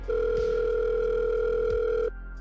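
A steady phone tone in the VRChat game holds for about two seconds at a constant pitch, then cuts off abruptly, with faint background hum and no voices.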